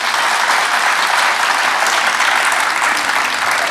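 A studio audience on a Tunisian television talk show breaks into loud, dense applause, a continuous close roar of clapping hands with no speech over it.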